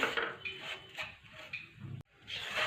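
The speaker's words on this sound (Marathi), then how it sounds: "आता ही खारीक मी एक दोन मिनटं अशीच मिडियम गॅसवरती भाजून घेणार आहे" Dried dates being dry-roasted in a pan over a medium gas flame, with soft intermittent scraping and light clinks of a spatula against the pan.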